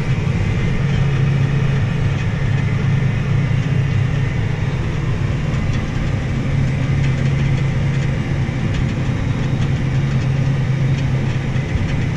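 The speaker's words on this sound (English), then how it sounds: "This tractor will go about 31 miles an hour down the road." A tractor engine drones steadily and loudly throughout, a constant low rumble with no talking.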